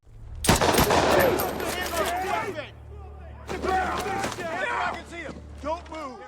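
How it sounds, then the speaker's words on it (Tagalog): Gunfire in the Hitman video game, with a burst of rapid automatic shots up close followed by scattered bursts, under excited speech and crowd noise. "nagpaputok si John ng baril sa harapan nito"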